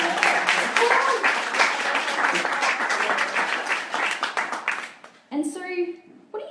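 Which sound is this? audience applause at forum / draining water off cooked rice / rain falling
audience applause at forum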